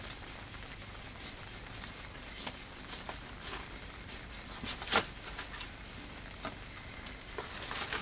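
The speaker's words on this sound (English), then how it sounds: "You can hear a little bit of rain on top of the yurt right now." Light rain patters steadily on a yurt roof, a soft continuous hiss with scattered faint drops and one slightly louder tap, heard alone with no talking.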